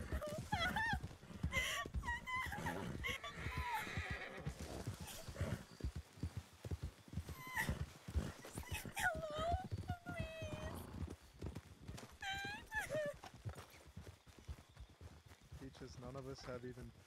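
A horse in a roleplay video game clip-clops along with steady hoofbeats and lets out several whinnies, mixed under nearly constant overlapping talk.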